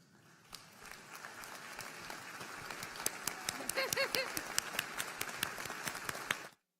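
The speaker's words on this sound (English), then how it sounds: "Will those lieutenants present, please rise to be recognized with applause" Applause at a university commencement as ROTC lieutenants rise to be recognized, a steady mass of many hands clapping that swells and then stops abruptly, fairly distant and with no talking.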